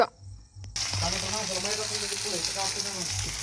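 Chopped onion hits hot oil in a pan for onion chutney, bursting into a loud, steady sizzle after a brief quiet moment, with close frying crackle continuing throughout.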